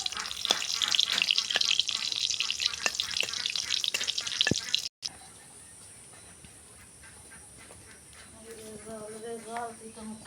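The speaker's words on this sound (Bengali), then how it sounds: "তেল দিয়ে দিলাম। শুকনা মরিচ দিলাম, ভাজে নিব একটু।" Dried red chillies fry in hot oil with a loud, dense sizzle and crackle, a few sharp pops and ticks, then the frying drops to a quieter hiss as other sounds come in.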